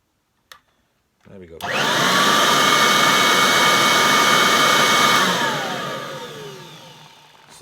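A Kirby Heritage 84 upright vacuum cleaner, fitted with a brush roll and LED headlight, starts up after a click and runs as a loud, steady whine with a clear motor tone, then begins winding down.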